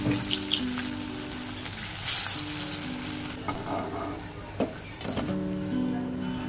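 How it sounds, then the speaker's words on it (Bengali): Soybean muitha dumplings frying in oil, a continuous crackling sizzle with clinks of a utensil against the pan and intermittent tonal hum in the background. "মুঠাগুলো এরকম লাল লাল করে ভেজে তুলে নেব।"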